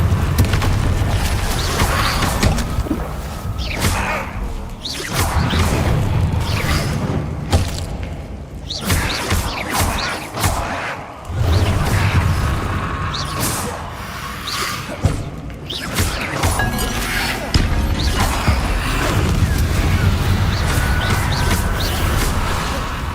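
Confringo explosive spell blasts in the Hogwarts Legacy video game, repeated booming thuds and whooshes within dense, loud combat audio that runs without pause.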